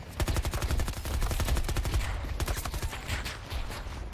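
Rapid, close gunshots in a Battlefield 2042 firefight ring out in a steady string of sharp cracks, loud at first and thinning slightly toward the end, with no talk over them.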